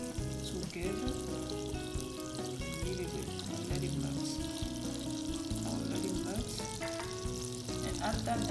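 Butter sizzles and fries in a little hot oil in a pan while making caramel popcorn, a continuous close crackling hiss throughout.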